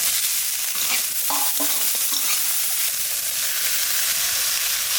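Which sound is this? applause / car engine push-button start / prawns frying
prawns frying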